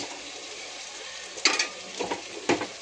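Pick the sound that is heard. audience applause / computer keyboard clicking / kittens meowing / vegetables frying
vegetables frying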